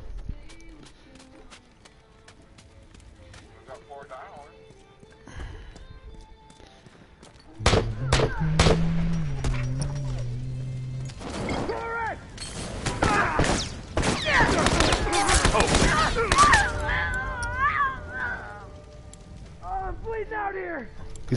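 Shotgun blasts and other gunfire in a multiplayer match of The Last of Us, loud bursts set against rumbling in-game noise and footsteps, with people talking over the action.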